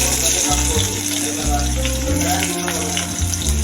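Onions sizzling in hot oil with chana dal in a pan, a loud, continuous close frying hiss with steady crackle.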